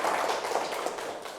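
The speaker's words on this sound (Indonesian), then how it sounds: "Kita beri tepuk tangan dulu untuk kita semua." A classroom of students claps together, a brief, fairly soft burst of dense applause that tapers off slightly toward the end.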